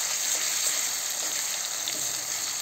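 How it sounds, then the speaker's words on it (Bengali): Garlic and onion frying in a pan while cooking a desi chicken curry: a steady, bright hiss of sizzling oil that stays even throughout, close and continuous with faint crackles. "রসুন আর পেঁয়াজ দিয়ে ভেজে নিচ্ছি।"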